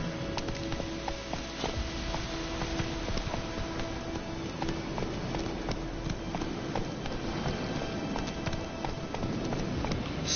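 Horse hooves trotting in the video game The Witcher 3, a steady, rapid clip-clop running throughout beneath a dense, continuous wash of game ambience.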